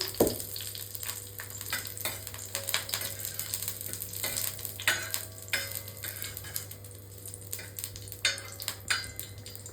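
Masala with curry leaves sizzles and fries in a pan for a mackerel fish curry, while a utensil stirs it in a steady, close scraping rhythm. No voices are heard.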